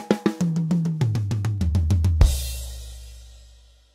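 A drum fill in even sixteenth notes on the kit, with a steady run of sharp hits that step down in pitch toward the low toms. It ends on a crash and the cymbal rings out alone.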